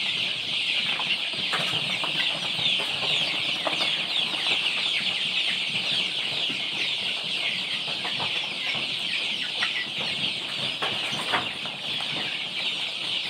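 A large flock of KUB chickens on a farm clucks and chatters continuously, a dense crowded din with occasional wing flaps and no voices.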